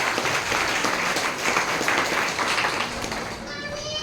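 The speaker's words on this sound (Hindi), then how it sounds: "एक बार उनके सम्मान में जोरदार तालियां" Audience applause at an RCM business gathering in India, a busy wash of clapping from a sizeable crowd that fades near the end as a voice begins to come through.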